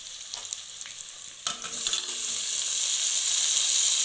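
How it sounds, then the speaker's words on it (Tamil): Onions and tomatoes frying in a pan for mutton biryani, a soft crackle that swells into a steady, close sizzle with light stirring, no voices. "வெங்காயம் வந்து நல்லா வதங்கட்டும்"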